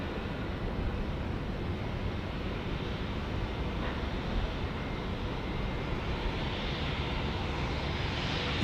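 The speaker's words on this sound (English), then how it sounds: "this is a Jetstar 320 just coming in" A Jetstar Airbus A320 jet comes in to land at Auckland Airport, a steady, broad engine roar that stays loud and constant throughout with no voices over it.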